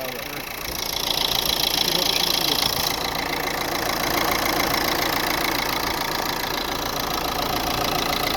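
A car engine with 305,000 kilometres on it idles steadily and fairly loudly, a continuous rumbling hum with a slight rough knock, no speech.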